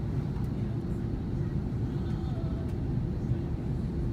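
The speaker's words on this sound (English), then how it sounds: "The plane started its descending to Guangzhou International Airport." Economy cabin of a China Southern Airlines flight from Melbourne descending into Guangzhou International Airport after circling near a thunderstorm: a constant, heavy low engine and airflow rumble fills the cabin without a break.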